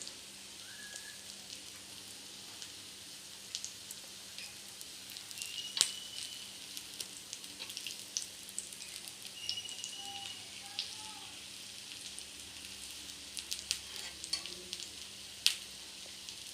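An egg fry crackles and sizzles quietly in a hot pan, with scattered sharp pops and spatters over a low steady hum and no talking.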